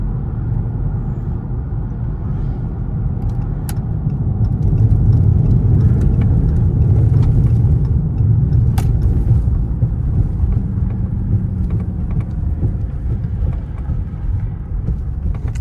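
A Dodge Charger RT's engine drones steadily from inside the car while driving, with a deep, loud rumble that swells in the middle and never stops, and no talking.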